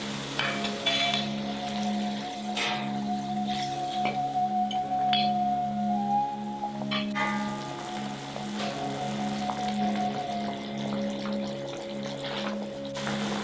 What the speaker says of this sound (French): Ensuite, laissez mijoter les boulettes à feu doux pendant 40 minutes.